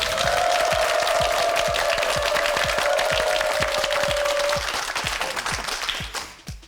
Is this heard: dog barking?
no